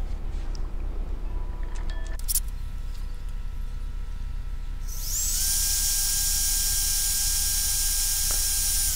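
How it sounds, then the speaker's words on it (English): A high, steady electric drill whine starts partway through and holds loud to the end, after a stretch of quieter mechanical rattling and clicks, as a drill bores into the cracked plastic body of a 3DR Solo drone. "grab a drill and just drill into the end of where those cracks"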